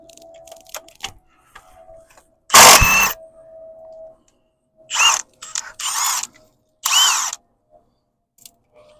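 A ratchet loosens transmission mount bolts on a 2007 Mazda CX-9, giving several short, loud clicking bursts separated by quiet pauses, close to the listener.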